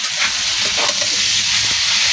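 Cauliflower stir-fried with spices in a pan for a fish and potato curry, a steady loud sizzle and hiss running throughout with soft scraping of stirring, no voices.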